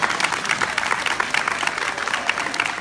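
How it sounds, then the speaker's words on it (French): Audience applauding after a pole dance demonstration at an ice rink, a dense, steady clapping from a crowd that carries on without a break throughout. "on peut l'applaudir bien fort pour cette démonstration"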